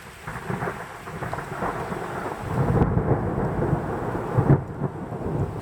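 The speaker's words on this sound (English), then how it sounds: "So at least the rain has stopped, but it's still thunder." Steady heavy rain with deep rolling thunder building partway through and rumbling on, loud and close, at a woodland campsite, no voices.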